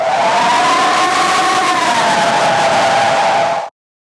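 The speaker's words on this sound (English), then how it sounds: "overdrive tilde with a high drive factor can also result in an aggressive screaming." Synthesized scream made with heavy overdrive saturation in Pure Data or Max/MSP, a harsh, gritty, sustained wail with a slowly wavering pitch, loud and unbroken for several seconds before ending abruptly.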